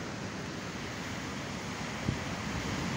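Sea waves at Atafona beach, where many houses have been destroyed, make a continuous broad roar of surf mixed with wind. The sound is steady and moderately loud, with no voices.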